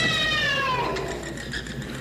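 A black cat gives a single drawn-out, falling meow, loud and close, trailing off into a soft ambient hush.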